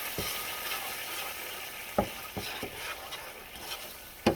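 Ramen being stirred in a sizzling pan: a steady crackling fry runs throughout while a utensil scrapes and taps against the pan in several sharp, irregular strokes, close and clear, with no talking.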